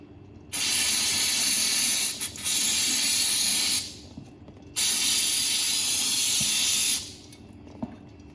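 Air blown through the carburetor of a 1971 air-cooled VW Bus comes out as two long, steady hissing bursts of a few seconds each, close and loud, with a short break between them.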